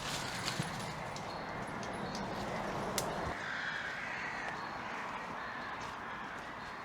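Crows caw out of doors against a steady wash of broadband ambient noise, the calls mid-distance and fairly faint, with a brief sharp knock partway through.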